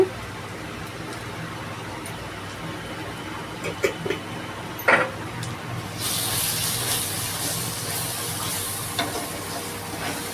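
Ground spice paste frying in a pan for fish curry: a steady low sizzle with a few brief stirring clatters, then a louder, brighter hiss that continues to the end.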